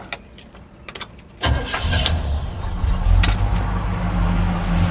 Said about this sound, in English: Let's go ahead and crank her up.